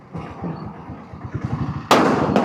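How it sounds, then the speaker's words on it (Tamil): A country firecracker bursts very close beside a road while a motorcycle rumbles along, the engine's low putter giving way to one sudden loud bang near the end. "ரொம்ப கிட்ட வெடிச்சுதுங்க அது"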